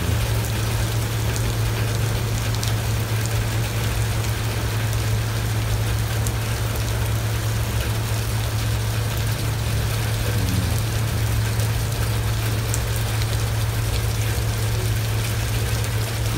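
Steady, dense rain with hail falls in California, a constant hiss of drops striking surfaces, and a low hum running underneath throughout, with no voices.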